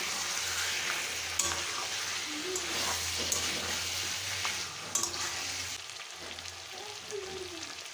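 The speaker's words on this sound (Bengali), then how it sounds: "তেলটা দিয়ে আর একটু ভালোভাবে কষিয়ে নেব।" Mutton sautéed in oil in a pan for a curry, sizzling and frying steadily with occasional scrapes and clinks of a stirring spoon, close and continuous.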